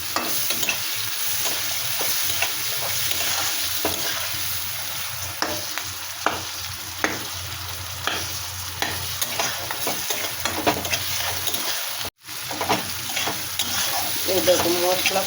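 Prawns fry in a pan with chilli and a little cumin, a steady sizzle under repeated scraping stirs, briefly cutting out once, with a voice speaking in places.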